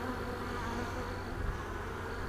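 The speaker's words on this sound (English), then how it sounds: "I think most of these bees flew back to the hive" Honeybees buzz at a hive in a steady, close, droning hum. The sound is fairly soft and continuous, with no voices over it.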